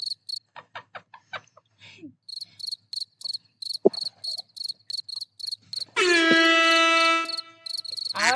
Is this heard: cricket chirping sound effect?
yes